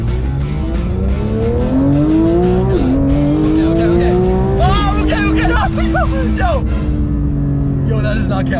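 A car's engine revs and climbs through gears with loud, repeated tire squeals and skids, like a driver doing stunts with passengers aboard; the engine roar runs steadily throughout and passengers shout and talk over it.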